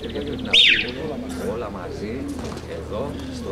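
Racing pigeons cooing in a loft, soft repeated throaty coos with a sharp chirp early on, steady and near, under a background of other bird sounds and voices.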